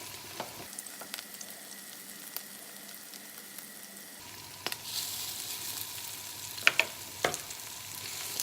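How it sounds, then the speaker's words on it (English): Food frying in about a quarter cup of oil, a mixture bound with egg and cheese, gives a steady soft sizzle with occasional louder pops and crackles, no talk over it. "Let it all sizzle."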